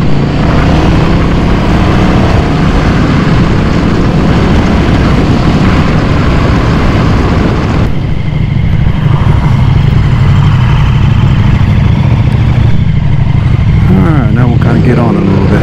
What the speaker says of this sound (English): So I'll just go up through the gears nice and,